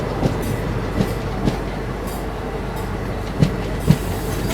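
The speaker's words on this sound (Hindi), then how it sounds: "फिर से ओवरटेक मारते हुए यहाँ पर हॉलीडे स्पेशल को, जो कि गांधीधाम और भागलपुर के बीच में चल रही है" Passenger train running past on an Indian Railways line, steady rolling rumble with periodic clickety-clack wheel thumps over rail joints, several distinct beats spaced irregularly, close and fairly loud.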